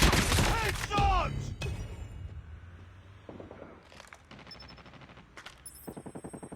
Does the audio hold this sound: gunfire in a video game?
yes